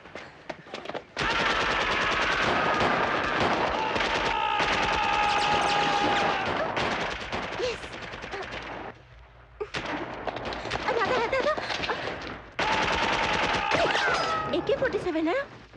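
AK-47 machine-gun fire in a Hindi-dubbed South Indian action film, loud rapid bursts filling long stretches and broken by brief gaps, with dramatic sound effects and voices mixed in.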